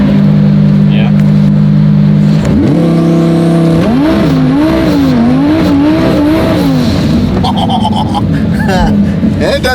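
A 1,200 hp car in launch mode with traction control off roars through a burnout, the engine holding a loud steady drone before rising and wavering in revving surges, with tire noise layered on top.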